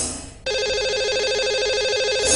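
A telephone rings steadily as a call goes out to a lucky caller on a live Hindi show, with a loud, continuous electronic trill following a short stretch of softer line noise.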